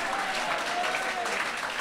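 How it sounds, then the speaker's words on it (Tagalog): A church congregation clapping together, a dense continuous patter of many hands over a short stretch with faint voices mixed in. "Pumalakpak ka."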